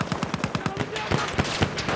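Rapid machine-gun fire from the Battlefield 1 video game, a run of sharp, evenly spaced bursts about ten per second that stays loud and close throughout with no talk over it.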